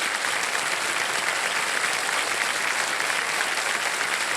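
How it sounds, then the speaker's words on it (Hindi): Sustained studio audience applause on a quiz show after a contestant wins, an even, dense clapping roar with no talk over it. "तालियां बजती रहे।"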